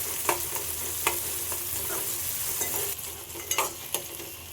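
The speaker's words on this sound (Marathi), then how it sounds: "कांदा टोमॅटो नरम पडेपर्यंत आपल्याला कांदा टोमॅटो शिजवून घ्यायचा आहे।" Onion and finely chopped tomato softening in oil in a pan for a mixed farsan bhaji, a steady sizzle broken by intermittent spatula scrapes and taps, close by and without speech.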